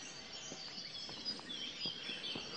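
Faint bird song in a dawn chorus with a chaffinch among the singers, thin high chirps and trills over a quiet outdoor background with scattered soft clicks.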